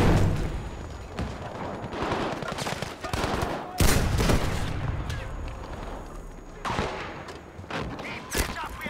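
Gunfire crackles through a Battlefield V battle, with sharp shots and explosive cracks, including a loud sniper-style report, scattered over continuous combat noise.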